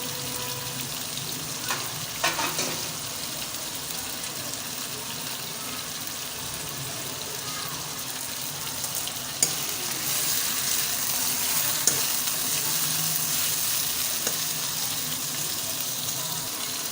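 Chicken and tomato frying in ghee for a bhindi gosht curry, a steady bright sizzle running the whole time with a few soft clinks of a utensil against the pan.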